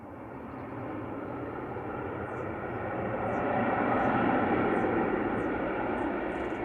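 An airplane landing at Liverpool Airport gives a steady, loud broadband roar that swells slightly midway and holds, with no voices over it.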